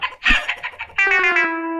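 A few quick clucks followed by a drawn-out, tonal synthetic chicken squawk from a Meena cartoon video game, close and clear with no talking.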